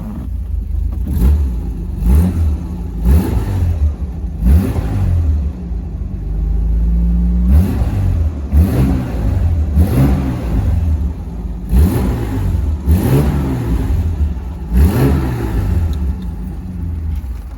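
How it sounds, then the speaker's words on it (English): A 1967 Jaguar E-Type 4.2-litre Series 1 roadster being driven, its engine rising and falling in repeated revving passes, loud and close, with gear changes and a brief steady low rumble midway. "Superb driving E-Type."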